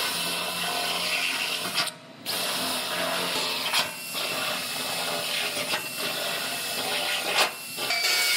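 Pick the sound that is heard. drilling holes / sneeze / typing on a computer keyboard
drilling holes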